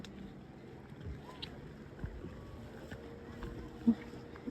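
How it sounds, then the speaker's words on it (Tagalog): Boats on the water off Pangkor Island, Malaysia, give a steady low engine drone, mixed with wind buffeting and a few soft knocks across the whole stretch. "Naririnig na yung tunog ng mga boat."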